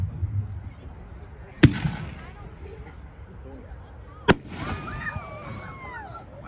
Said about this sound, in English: Item number 12 from Raccoon Fireworks, Ghost Dragon.